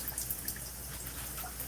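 Soft dripping and trickling water applied to curly hair while styling with a water-based product, a quiet close hiss with scattered drips.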